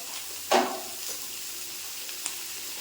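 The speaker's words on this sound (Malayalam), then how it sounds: "അതിലേക്ക് നമ്മളിനി സവാള ഇട്ട് കൊടുക്കുവാണ്" Sliced onions with ginger and garlic fry in oil in a pan, a steady close hiss with one sharp scrape or clatter near the start and a small tap later.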